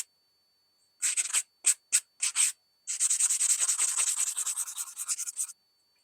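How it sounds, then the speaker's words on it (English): Hand sanding a knife blade with progressively finer grit sandpaper: several short separate strokes, then a longer run of quick rhythmic rasping strokes, close and clear with no talk. "Now I'm just gonna hand sand this progressively finer grit just to get the vertical lines out."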